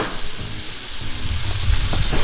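Chopped onion and garlic fry in butter in a pan for fried rice, a close, steady crackling sizzle that thickens toward the end as stirring scrapes and clatters underneath.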